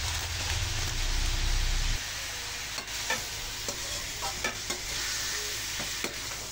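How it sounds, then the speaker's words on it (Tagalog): Pork for adobo sautéing in a pan crackles in a steady sizzle, louder at first and then settling, with intermittent stirring clatters of a utensil against the pan, close by and without voices. "Gisa muna tayo."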